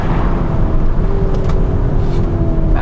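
A Tesla Model Y and a Lamborghini Urus hard on the throttle in a drag race, a loud, dense, continuous roar of engine and road noise heard close and without a break.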